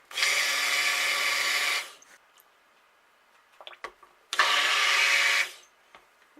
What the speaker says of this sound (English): now we're gonna burp our blender and we're gonna start